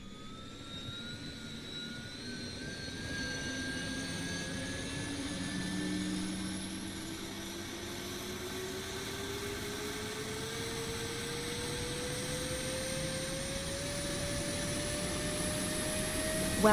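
Jet engines of a PMDG 777 airliner from the Boris Audioworks sound set in MSFS 2024, a steady whining roar with rising tonal whine building gradually, loud and continuous throughout with no talk.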